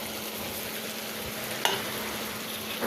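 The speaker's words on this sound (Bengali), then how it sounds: "আরও অনেকক্ষণ ধরে মশলাটা ভুনা করতে হবে, অনেকক্ষণ ধরে।" Ground garam masala frying in a pan with spices for a chicken jhal fry: a steady, close, hissing sizzle throughout, with one brief clatter of stirring partway through.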